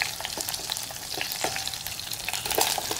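Zucchini frying in a pan alongside seared chicken thighs at a camp cooking setup, a steady close sizzle with scattered crackles and a few light stirring scrapes, no talk.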